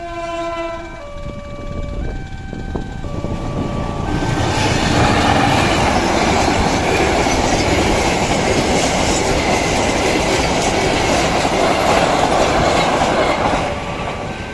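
Two trains pass a railway level crossing in Cirebon: a horn blasts in short tones first, then a loud, close roar of wagons with rhythmic clickety-clack and faint wheel squeal fills the rest, with no voices.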